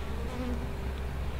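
A swarm of bees buzzes steadily around a beehive that a bear demolished, a dense close hum with a few individual insects drifting near, no talking.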